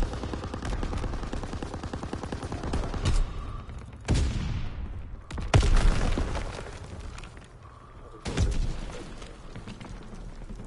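Rapid gunfire from World War II weapons in Call of Duty: WWII, sustained automatic bursts with several heavier booming shots, loud and close throughout.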